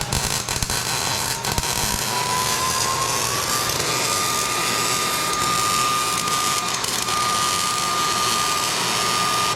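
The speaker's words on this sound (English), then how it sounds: "I'm about to weld final piece right here." Welding a final reinforcement piece onto a 1.5JZ-swapped E46 M3 build, a loud continuous crackling buzz with a steady whine running underneath, close and unbroken.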